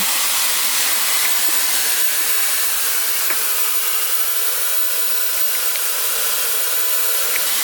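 A hair dryer blows in a constant, loud, airy whoosh from start to finish, with a faint tap or two.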